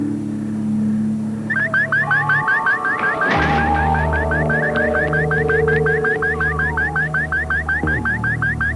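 Pulsing electronic alarm from a security system at a remote outpost, repeating in rapid even chirps that start after a low hum and a sharp impact, loud and steady over a droning background.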